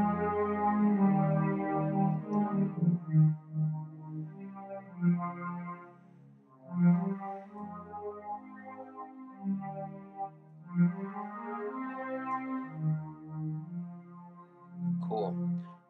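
Keyboard on a string-ensemble patch plays the melody of a song, sustained chords swelling and fading in phrases, moderately loud and alone with no talking.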